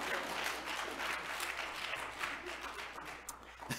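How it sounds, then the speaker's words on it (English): A church congregation at a Sunday worship service claps their hands together, a continuous, moderately distant patter of many hands without pause. "Come on, let's put those hands together."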